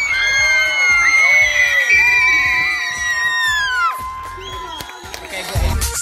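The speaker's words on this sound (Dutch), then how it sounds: "Je mag nu heel hard gillen." A crowd of children at a kids' camp screams and cheers loudly, with shrill, overlapping high-pitched shrieks and whoops that hold steady for several seconds before a burst of noisier shouting at the end.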